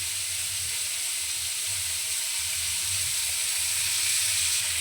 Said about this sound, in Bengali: দেখুন কি সুন্দর চিংড়ি মাছগুলো ভাজা হয়ে গেল, লাল লাল হয়ে গেছে।